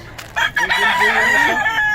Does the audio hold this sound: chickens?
yes